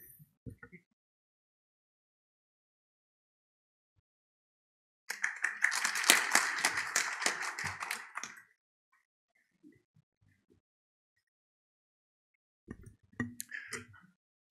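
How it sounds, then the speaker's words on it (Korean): A burst of audience applause at a foundation's official ceremony rises suddenly, a dense patter of clapping hands lasting a few seconds before fading, with quiet gaps and faint speech around it. "모두 큰 박수로 맞이해 주시기 바랍니다."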